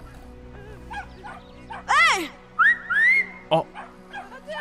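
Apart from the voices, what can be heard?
dog barking in video game Brothers: A Tale of Two Sons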